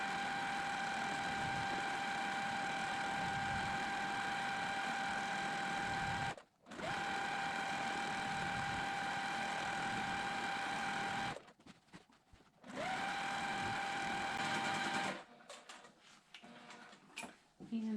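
A domestic sewing machine hums at a steady running pitch while free motion quilting a quilt, stopping briefly a few times and then picking back up, with faint handling noises toward the end.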